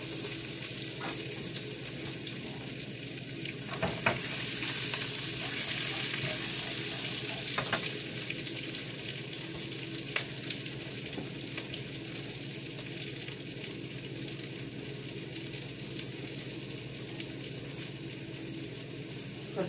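Refried beans with bacon frying in a pan, a continuous close sizzle and hiss with faint stirring and scraping, steady throughout, no voices.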